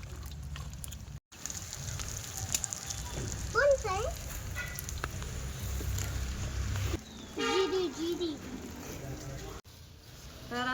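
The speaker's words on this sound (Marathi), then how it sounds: "खोबरं टाकलंय भाजायला" Coconut dry-roasting in a pan for masala in a home kitchen gives a steady, faint crackling hiss throughout, with voices talking over it now and then.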